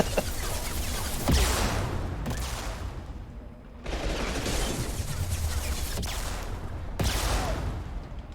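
Bursts of rocket and weapon fire in the video game Mass Effect, several loud volleys separated by short lulls, with a sustained rumbling wash of explosions throughout.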